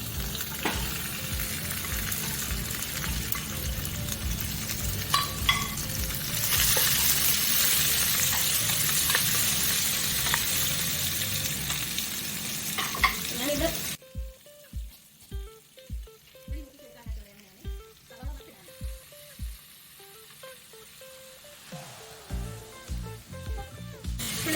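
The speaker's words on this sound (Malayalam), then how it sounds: "എന്നിട്ട് നമ്മൾ അരിഞ്ഞു വെച്ചേക്കുന്ന സവാള മൊത്തമായിട്ടിടാം." Chopped onions fry in a pan with a continuous sizzle, then a run of rhythmic scraping stirs, each stroke distinct, before the sizzle swells again.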